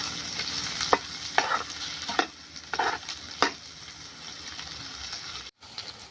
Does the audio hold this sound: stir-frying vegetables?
yes